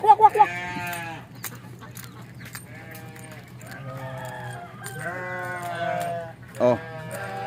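Several wavering sheep bleats rise and fall over a steady low hum on a farm, with a brief burst of short calls at the start and voices between.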